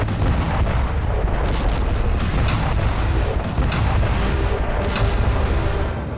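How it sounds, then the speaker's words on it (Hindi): Heavy bombing and artillery fire in Donetsk during the Russia–Ukraine war, a loud continuous rumble with repeated sharp blasts and booms, no voices. "कुर्स्क की तरह ही डोनेस्क में भी भारी बमबारी की शुरुआत कर दी गई।"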